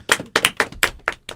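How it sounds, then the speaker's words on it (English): An audience at a school sports event claps in a handful of sharp, separate bursts, about six distinct hand claps spread over a moment, close and fairly loud. "Big round of applause."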